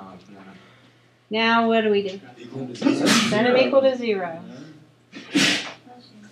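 Amid close conversational speech, a couple of sharp, breathy sneezes burst out, one in the middle and another near the end.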